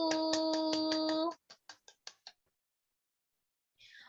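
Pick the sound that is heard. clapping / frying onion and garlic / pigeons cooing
clapping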